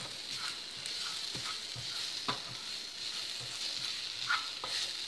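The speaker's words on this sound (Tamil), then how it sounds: "இந்த மிளகாத்தூளோட பச்சை வாடை போகிற அளவுக்கு வதக்கிக்கணும்" Chili powder sautéing in a pan for a carrot and mango rice dish, a soft continuous sizzle broken by faint rhythmic scrapes of stirring, fairly quiet.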